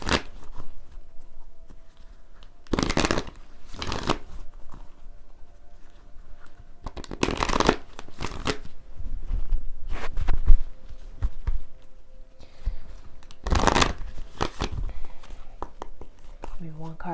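Several bursts of tarot card shuffling, riffling and rustling close by, separated by quieter stretches with soft background noise.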